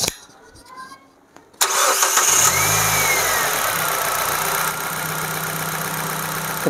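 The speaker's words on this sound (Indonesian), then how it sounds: "Baik, kita dengarkan suara mesinnya kawan-kawan." A used family car engine cranks and catches partway through, then settles into a steady, fairly loud idle that runs to the end, with faint background sound before the start.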